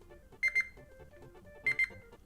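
A detached Nintendo Joy-Con 2 controller emits two pairs of quick, bright electronic beeps about a second apart, close and fairly quiet against a low background hum.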